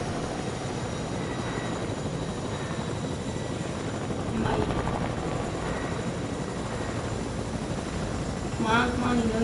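Helicopter rotor and engine in a console shooter game, a steady loud whirring drone throughout with brief mechanical clicks and a swell near the end.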